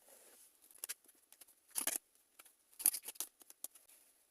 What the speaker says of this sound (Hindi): चलिए कुछ और कार्ड्स लेते हैं।